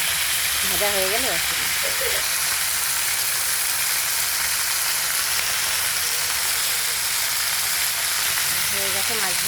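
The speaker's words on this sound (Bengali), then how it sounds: "হয়ে গেছে মাছ ভাজা তুলে নেবো" Fish frying in oil in a pan gives a steady, close sizzling hiss that never lets up, with a voice speaking briefly near the start and again at the end.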